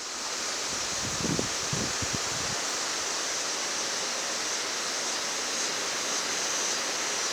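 Storm wind rushes steadily through foliage in a broad, rustling hiss during a thunderstorm in southeastern Pennsylvania, with a few low bumps early on and no voices.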